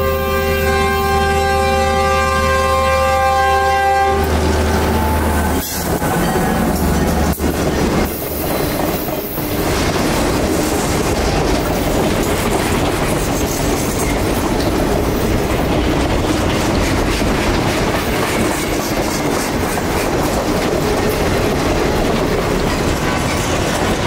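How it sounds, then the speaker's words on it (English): Sugar cane freight train on the U.S. Sugar Railroad, a short line: a loud diesel horn blast opens, then steady rumbling and clattering of rail cars rolling past close by, with occasional wheel squeal. "Once this train got out of the way of our southbound loads, they would continue up the line northward"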